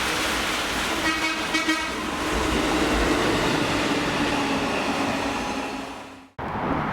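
A track maintenance train heading down to a worksite in Scotland passes with a steady rail rumble and a brief horn toot early on, then cuts off abruptly.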